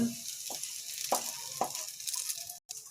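Vermicelli roasts in ghee in a pan for a sweet semiya kesari, with a soft continuous sizzle and a few sharp metallic clinks and scrapes from a stirring spoon, fairly close.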